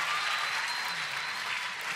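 A conference audience applauds and cheers, dense sustained clapping from a large crowd filling the room for about two seconds.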